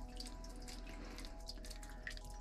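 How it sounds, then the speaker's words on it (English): Water dripping from limestone inside a cave along the Black River, faint scattered drips over a steady low hum and gentle background noise. "Hear the dripping of the limestone, the water coming out?"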